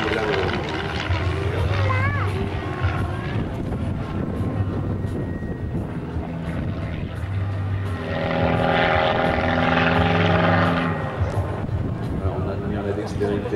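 A Christen aerobatic airplane flies overhead, its steady propeller-engine drone rising and swelling as it passes, while a voice talks over it throughout.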